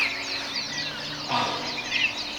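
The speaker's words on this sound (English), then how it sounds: "Excuse the quacks by the ducks." Ducks quacking outdoors in Hawaii, a steady mix of bird calls and clucking-like squawks throughout, moderately close, with no talk over them.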